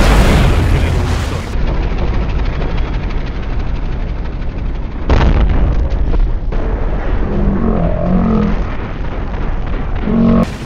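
Heavy bombs from a warplane carpet-bombing a base in the World War II strategy game Company of Heroes: Eastern Front, a loud sustained rumble of blasts with a sharp new impact midway, then rolling booms under battle noise.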